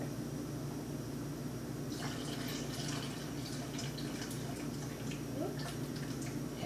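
Juice is poured into ginger tea, a soft trickle and splash that begins midway and carries on under a steady background hum.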